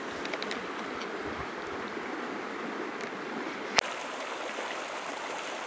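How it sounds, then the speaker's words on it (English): Creek swollen to river size rushing beside a hiking trail, a steady broadband water roar at moderate distance with one sharp click partway through and no talk. "kind of following the contour of what has turned out to be a river now, even though it's supposed to only be a creek"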